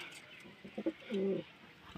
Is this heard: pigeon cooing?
yes